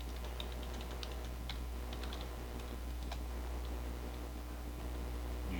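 Keys clicking on a computer keyboard as a command is typed at an MS-DOS prompt, a quick irregular patter of close, soft taps over a steady low hum, with no one speaking.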